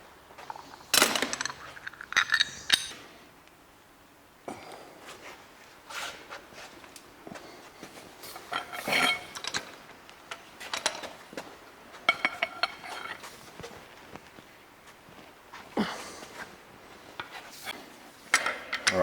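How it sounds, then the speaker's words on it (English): Injector camshaft sliding out of a 15L Cummins ISX diesel engine, heard as scattered metallic knocks, clinks and scraping bumps at irregular intervals, close but fairly quiet, with pauses between bursts. "So we'll slide the injector cam out."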